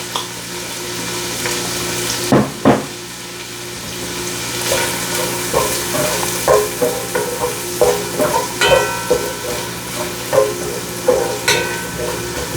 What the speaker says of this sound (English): we want to go ahead and get these onions sweated down just a few minutes before we add our celery and carrot stock